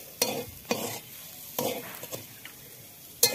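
Fish momo filling fries in a pan, with a soft sizzle under several sharp scraping stir strokes coming in irregular bursts, close and clear.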